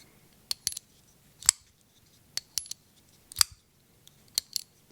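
Crisp metallic clicks in quick pairs, a pocket knife's crossbar lock snapping open and shut about five times in a steady rhythm, close up.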